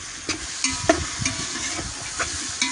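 Cut potatoes stirring and frying in a pan for Khandeshi khichdi, a steady close sizzle broken by a few scraping strokes of a spoon against the pan.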